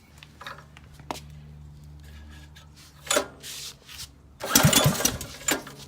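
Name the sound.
Reaper minichopper engine starting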